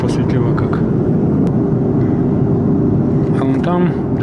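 A passenger airliner flying west fills its cabin with a constant low engine drone that holds steady throughout. A voice speaks faintly over the hum near the end.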